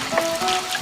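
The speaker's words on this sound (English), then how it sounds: "Oh, look at all the water pouring out of it." Water trickles and pours out of a rusty junkyard car body as loosened dirt washes free, a short close steady splashing flow.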